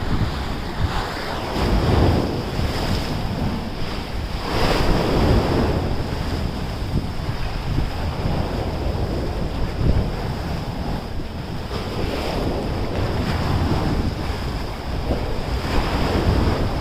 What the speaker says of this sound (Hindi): लहरें तो इतनी तेज़ हैं कि डर लग रहा मुझे।